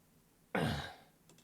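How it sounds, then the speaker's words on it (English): A single short, rough throat clearing bursts out once after a quiet pause, close and fairly soft, with no speech around it. "I'm gonna clear my throat."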